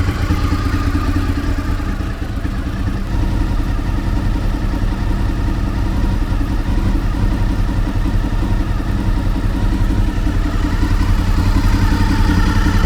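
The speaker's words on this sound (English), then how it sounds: "It sounds like it's idling a lot slower" A Honda VFR800Fi motorcycle engine idles steadily up close, a loud, low, even putter with a slight clattering texture and no change in speed.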